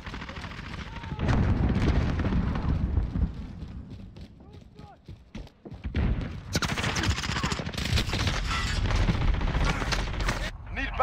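Gunfire and grenade blasts from the video game Modern Warfare rattle through a dense, loud battle: rapid bursts and heavy booms rise and fall, a lull near the middle, then a sustained barrage with radio-style callouts underneath.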